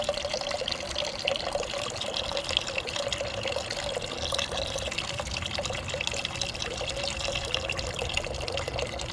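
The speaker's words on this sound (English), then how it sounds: "these cuts on the cap of the thermos are made to pour water or coffee" Water pours from the slotted cap of a thermos at a campfire cooking setup, a steady, close trickle and splash that runs on without pause.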